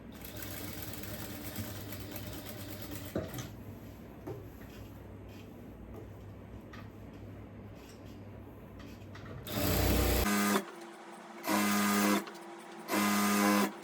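A sewing machine stitching the neck of a churidhar runs in a steady motor hum for about ten seconds, then stops and restarts in two short bursts. The stitching is loud and close, with no voices.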